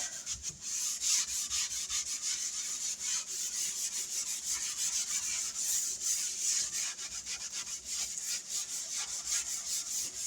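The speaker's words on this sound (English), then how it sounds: "I'm just going to take and start scrubbing" Steady, continuous scrubbing of a porous farmhouse stone sink, a dense rasping rub with quick back-and-forth strokes, close and fairly loud throughout with no talking.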